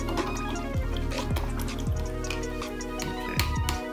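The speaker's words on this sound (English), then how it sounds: "I'm gonna take this brush and rinse it off." Acrylic paint brush rinsed in a water cup, with repeated light swishes and drips and the brush tapping against the container in an irregular rhythm, close and fairly quiet.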